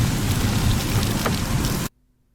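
Steady rain pours loudly with no voices, a dense even hiss that cuts off abruptly near the end, leaving near silence.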